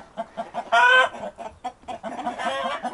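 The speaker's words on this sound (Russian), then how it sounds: "Такое у нас это стадо курей. Петух главный." Hens and roosters cluck in short, busy bursts close by, with a couple of louder squawking calls breaking through the steady chatter, the flock slightly agitated in the cold.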